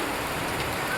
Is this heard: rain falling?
yes